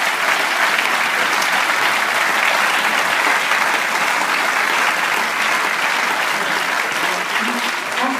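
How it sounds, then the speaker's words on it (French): Steady, dense applause from a crowd at an event, loud and continuous for the whole stretch with no pauses, only faint voices mixed in. "vous pouvez vous applaudir"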